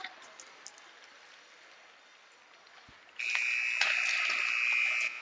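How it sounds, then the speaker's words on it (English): A loud, sustained electronic buzzer at an ice hockey arena marks the end of pregame at a high school tournament game, sounding abruptly and holding steady for a couple of seconds after a stretch of low crowd murmur. "That is the buzzer for the end of pregame."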